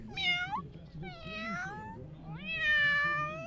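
A person imitates a cat, giving three drawn-out, rising-and-falling meows close to the mic, with a short pause before the last and longest one.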